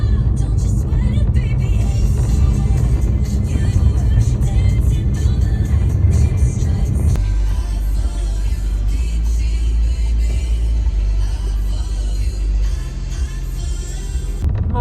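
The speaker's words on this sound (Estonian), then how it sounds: "autol on kõik rattakoopad täis, et koliseb" A car drives with wheel wells packed with debris, giving a steady loud engine and road rumble that continues throughout, with a change in tone midway, while people talk over it.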